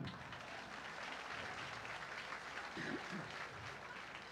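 Sustained audience applause, a steady wash of many hands clapping, with a brief voice murmuring underneath near the end.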